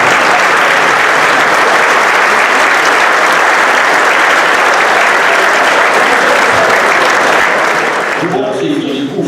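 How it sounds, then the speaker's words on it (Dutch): A large audience at a Limburg carnival comedy festival applauds an orchestra, loud, dense and sustained clapping for about eight seconds before it cuts off abruptly near the end. "geef dat orkest Owens een flink applaus"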